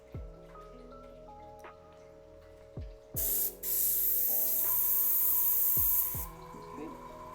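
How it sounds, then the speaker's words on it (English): A model-painting airbrush, its needle removed for cleaning, fires a loud hissing burst of spray lasting about three seconds, with a brief puff just before and quiet clicks and faint room noise around it. "So just took the needle out and gave it a spray."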